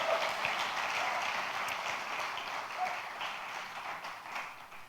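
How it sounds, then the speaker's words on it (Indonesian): A church congregation applauds, giving a moderate, steady patter of many hands clapping that fades slightly toward the end of the short stretch. "Bisa kita berikan tepuk tangan yang terbaik buat Tuhan?"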